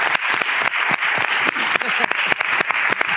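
An audience at a permaculture and degrowth workshop claps steadily for about three seconds, a dense, even patter of many hands with no voices over it.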